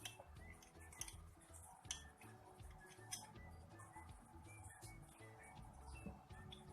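A utensil stirring tuna-egg sandwich filling with mayonnaise and condensed milk in a bowl, giving faint, quiet clinks and soft scraping taps in an irregular rhythm, with no talking.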